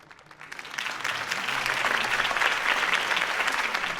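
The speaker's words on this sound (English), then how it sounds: "If only Mr. Wayne, my campaign's largest backer, could have heard that applause" Crowd applause swells after a campaign speech for Harvey Dent in Batman: The Telltale Series, building from quiet to steady, dense clapping that carries on loudly throughout.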